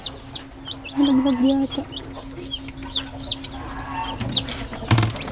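Newly hatched chicks cheep in high, rapid peeps while adult chickens cluck nearby at a modern integrated farm's breeding area, someone speaking briefly over the birds.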